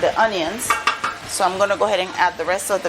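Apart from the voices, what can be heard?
No everyday noises stand out.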